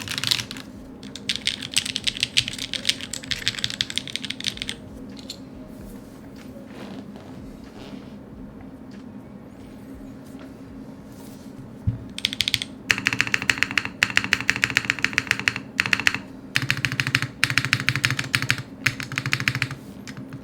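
Bursts of rapid typing on a DK1-TKL keyboard fitted with modded Gateron Sage switches, dense clicking keystrokes close to the mic, pausing for several seconds in the middle before resuming in fast runs.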